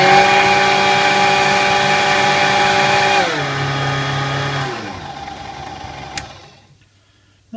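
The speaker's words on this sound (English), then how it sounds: "just put the cover back on again, turn it on" A Kenwood Chef A701 stand mixer motor, freshly serviced with oiled bearings, runs loud and steady at full speed with a strong whine, then is switched off and audibly winds down over several seconds to near silence.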